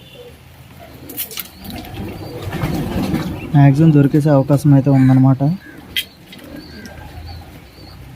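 Pet pigeons coo in a short run of soft, throaty, rhythmic calls, close by and clear, while someone talks over the scene before and after.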